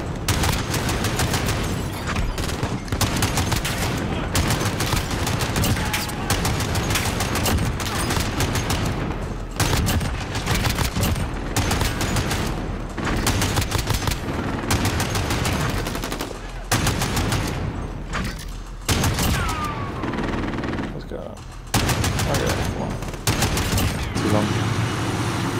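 Relentless turret machine-gun fire in the Modern Warfare video game, loud, dense rapid bursts running almost continuously with short breaks, with a player's voice talking beneath.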